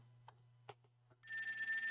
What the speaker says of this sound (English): See, that's not my alarm, that's the phone.